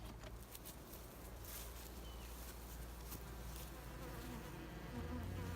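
Honeybees hum in a thick, continuous drone at an open hive during a spring inspection, heard close and steady with faint handling noises underneath.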